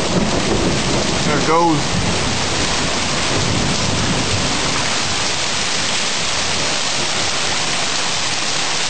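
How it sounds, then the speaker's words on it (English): Heavy rain pours down during a severe hailstorm with lightning in Edmonton, Alberta, in a dense, constant hiss, loud and close throughout, with a brief voice near the start. "Rain's really coming down right now."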